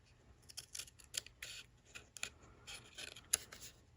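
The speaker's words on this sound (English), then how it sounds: "I'm just using the scissor, again using the edge" Scissors trimming the edge of a handmade greeting card, a series of short crisp snips and paper rustles at close range, irregularly spaced, with one sharper cut near the end and no talking.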